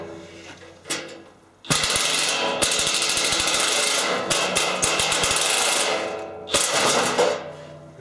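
Rivet nut tool setting a rev nut into the rear battery box of a DIY electric vehicle conversion, producing loud sustained mechanical ratcheting and grinding bursts with rapid clicks, in three close, strong stretches separated by brief pauses.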